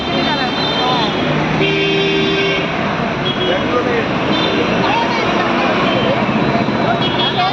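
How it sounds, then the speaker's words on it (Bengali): A large vehicle pulls up amid busy street traffic, with engine rumble, a brief horn tone and crowd chatter in the background. "এই যে আমাদের বাস চলে এসছে।"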